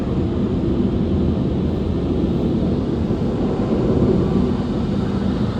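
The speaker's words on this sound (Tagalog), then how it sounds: "Yan, malakas na pressure ng hangin." A loud, steady roar of forced air blasting continuously from an automatic car wash air blower running close by, with no pauses.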